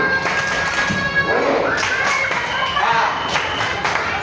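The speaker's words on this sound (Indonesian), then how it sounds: "Bapak mau tepuk semangat dulu. Tepuk semangat si Ibu" An audience in a classroom does a rhythmic spirit clap, a busy run of claps and thumps from a crowd close by, with voices mixed in.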